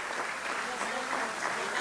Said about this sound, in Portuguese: a Fonte Bastarda tem que dar uma salva de palmas a essa gente